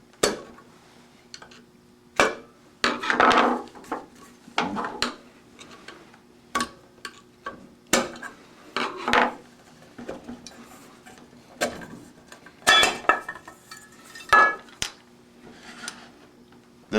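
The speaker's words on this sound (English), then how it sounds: "use a screwdriver to loosen the cover and tap it off" A screwdriver tapping and prying at the back cover of a Hayward Super II pool pump, giving a series of sharp metallic clicks and knocks in irregular bursts, close and fairly clear, with no talk.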